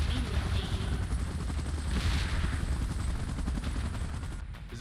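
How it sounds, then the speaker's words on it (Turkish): In the mobile game PUBG Mobile, a helicopter's rotor thumps and roars steadily up close as it takes off, with rapid bursts of gunfire crackling over the din. "Helikopter kalkışı hazır."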